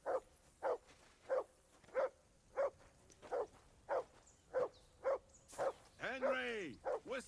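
A dog in Kingdom Come Deliverance 2 barks repeatedly in an even rhythm, about a dozen sharp barks at moderate distance, ending with a whistle-like sweeping call.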